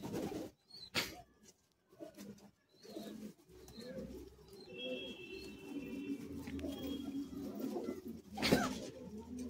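Dasu bloodline pigeons, an old Madrasi kabutar line, coo in low, steady murmurs that run almost continuously through the stretch, close by and moderate in level, with a brief louder flutter near the end.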